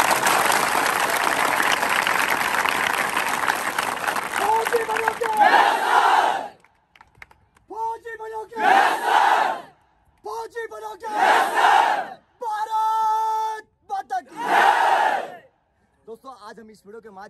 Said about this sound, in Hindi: एक बार सभी लोग दिल से ताली बजा दीजिए।